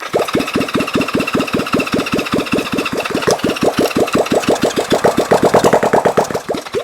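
A vintage Honda CB350 motorcycle engine cranks in a fast, steady chugging rhythm, catching and picking up pace, loud and close by.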